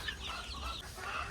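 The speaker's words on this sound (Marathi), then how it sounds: "तर आज एक कोंबडी आहे इथंच. तिने आजच पिल्ला काढलेत." A free-range village hen clucking steadily beside her newly hatched chicks, with thin high peeping woven through, close and continuous for a brief moment with no talking.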